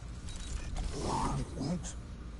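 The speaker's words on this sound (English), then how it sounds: "Think you could open the door for a minute?" In the Guardians of the Galaxy video game, a spaceship door creaks open with slow, groaning mechanical strains and a low grinding texture, close and alone with no voices.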